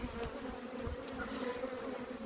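Honeybees hum steadily around brood frames being shaken and lifted into a third hive body, a close, continuous buzz with no voices.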